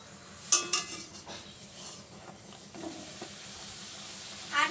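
Paratha frying in plenty of oil in a home kitchen, a quiet sizzle in the background with a few sharp clinks of utensils against the pan.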